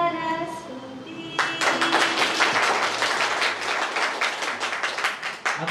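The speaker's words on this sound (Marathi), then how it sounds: "अजून जोरदार टाळ्या" Audience at a Marathi poetry recital bursts into loud, steady applause after sung verses, many hands clapping densely and continuously until the end.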